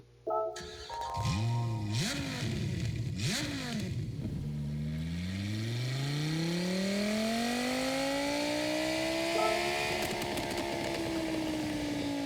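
A Dodge SRT Tomahawk X VGT engine in Gran Turismo 7 cranks and starts, revs sharply twice, then settles into a rising, steady whine as it accelerates; loud and close, no talking.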